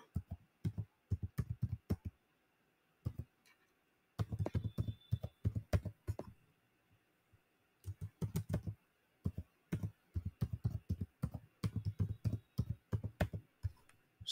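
Bursts of typing on a computer keyboard while filling in project fields, in clusters of rapid, close, crisp key clicks separated by short pauses, with no voices.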